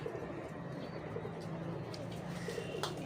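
A purebred pigeon coos softly in low, repeated murmurs, faint against a quiet background with light chirps.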